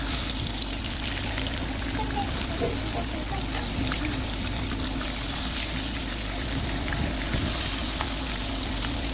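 Prawns frying in oil in a pan for a prawn curry, a steady continuous sizzle and crackle throughout, fairly even in loudness with no talking.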